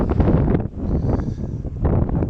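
Wind blowing outdoors on the island of Iona, buffeting the microphone in a loud, steady rumbling roar with gusting swells throughout.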